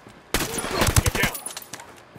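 A sudden burst of close, sharp automatic gunfire from Ghost Recon Wildlands, several rapid shots in a row that taper off into scattered reports.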